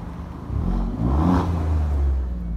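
An Alfa Romeo Giulia Quadrifoglio engine revs in neutral, a loud, close, deep rumble that swells up and eases off, then holds at a steady growl.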